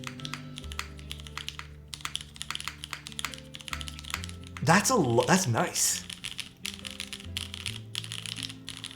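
Keystrokes on an Ayleen mechanical keyboard fitted with scratchy switches, a steady run of close, crisp clacks with a gritty edge, briefly interrupted midway by a person speaking.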